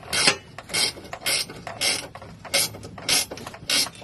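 A ratchet wrench tightens a bolt on a UMI driveshaft loop being installed on a Chevy, giving about seven quick, evenly spaced bursts of close, sharp clicking with brief pauses between strokes.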